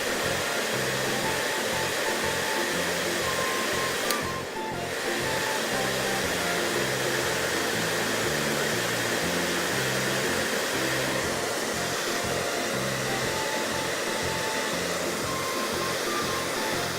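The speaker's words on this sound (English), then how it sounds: "Finally, blow dry picture book." A hair dryer blows steadily on a water magic picture book, a loud, constant whooshing roar lasting the whole stretch with only a brief dip partway through and no voices.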